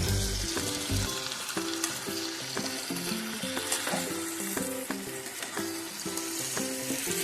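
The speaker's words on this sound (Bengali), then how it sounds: "তো আবারও ওটাকে আমি ভালো করে নাড়িয়ে দিলাম কাঁচা লঙ্কাটা দিয়ে।" Dried fish and vegetables with brinjal and green chilli frying in a pan while being stirred, a steady close sizzle with repeated scraping strokes, no talk.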